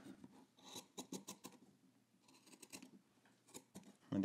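Scissors snipping fabric during sewing, a quiet series of short crisp cuts and rasping blade slides in two clusters, close by with no talking.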